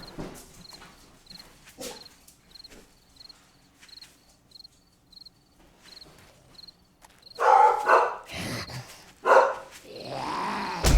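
Dogs in the survival game 7 Days to Die growl and bark amid a regular cricket chirp, quiet at first, then a louder burst of snarling and noisy action toward the end.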